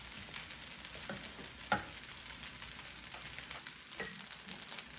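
Spam fried rice sizzling in a Power XL cooker, a continuous close frying hiss with occasional stirring scrapes and one sharper clatter partway through, no voices.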